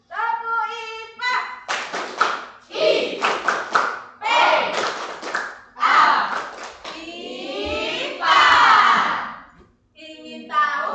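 Indonesian primary science class performs a rhythmic clapping chant, children's voices chanting in bursts with hand claps mixed in, loud and close in a classroom.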